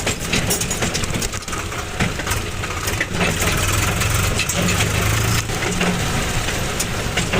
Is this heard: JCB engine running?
yes